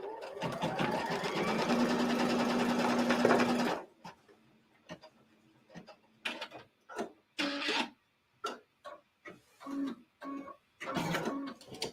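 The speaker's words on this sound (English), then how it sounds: "place that back on our machine and stitch that seam line" A sewing machine stitches a 1/4 inch seam in a steady, fast mechanical whir for a few seconds, then stops, followed by quieter clicks and handling noises.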